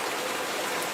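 Rain falls steadily in an even, dense hiss with no breaks or voices.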